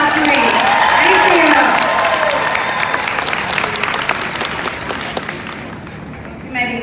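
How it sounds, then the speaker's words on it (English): An audience at an elementary school 5th grade graduation bursts into loud, dense applause that gradually thins and fades, with scattered cheers mixed in. "Let's give them a better round of applause"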